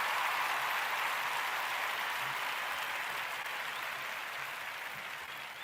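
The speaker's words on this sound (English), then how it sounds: "So give yourselves a clap for that." A live-stream audience claps in a steady, washy patter of applause that holds evenly and slowly fades toward the end, with no voices on top.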